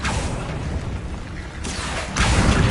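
A loud, roaring fire-spell blast rumbles in a fantasy wizarding game, a dense sustained boom that swells again with a second burst near the end.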